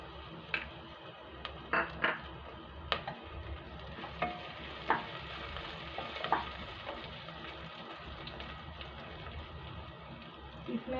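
Ginger frying in a pan for tomato pulao, a steady sizzle broken by frequent clinks and scrapes of a spoon stirring, close and moderately loud, with no talking.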